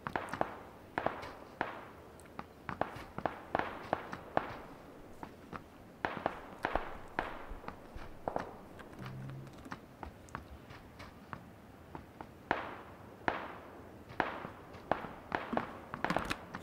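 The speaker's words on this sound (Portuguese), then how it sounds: "Tem tiro pra caralho nesse W aí" Gunfire in the battle royale video game PUBG Battlegrounds: scattered sharp distant shots and short bursts crackle irregularly across the whole stretch, fairly faint with small gaps between volleys.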